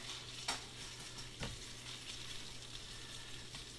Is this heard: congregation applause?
no